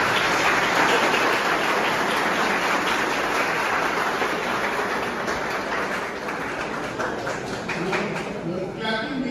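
Audience at a law seminar applauding, a dense steady wash of clapping running the whole stretch with a slight taper toward the end, under a faint voice.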